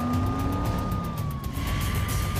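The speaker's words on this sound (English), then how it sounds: "The officer turns on the siren and accelerates through traffic." A loud police siren wails nearby, its pitch slowly sweeping over the rumble of road traffic.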